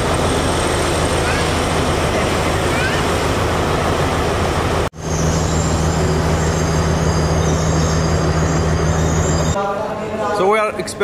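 A train in Sri Lanka thunders past very loudly and close, a continuous roar with screeching wheels, and a voice rises briefly near the end.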